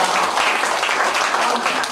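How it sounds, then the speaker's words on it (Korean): Sustained applause from a lecture audience at a Korean CEO academy talk on history, dense steady clapping filling the room with no voices over it. "다시 한번 큰 박수 부탁드립니다"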